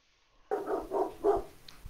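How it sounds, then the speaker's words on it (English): A dog barks three times in quick succession, close and moderately loud, against a quiet background. "Ruff, who's that dog?"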